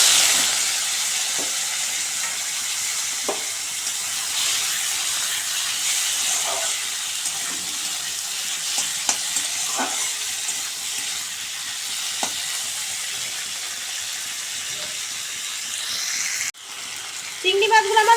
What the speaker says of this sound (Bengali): তেল গরম হয়ে গেছে, আমি আগে চিংড়ি মাছগুলো ভেজে নেব।